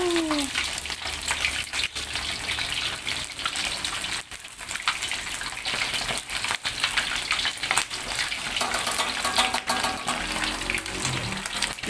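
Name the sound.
fish frying and popping in hot oil in a wok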